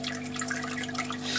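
A pump-driven waterfall water feature trickles over a rock formation in a turtle tank, producing a continuous close splashing patter with a steady low pump hum underneath.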